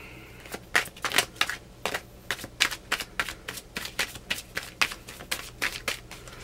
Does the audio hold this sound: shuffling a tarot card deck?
yes